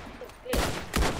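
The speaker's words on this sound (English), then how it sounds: "I hear a pistol." Two sharp, close gunshot bursts from a pistol in the video game Modern Warfare 3 during a 2v2 sniping match, roughly half a second apart over faint game ambience.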